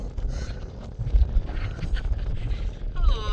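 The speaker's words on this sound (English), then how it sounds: "I'm up on this really windy ridge and climbing higher" Strong wind buffets a high mountain ridge on the Continental Divide Trail in Colorado, a steady roaring rumble with gusts swelling and easing, close and loud against the microphone.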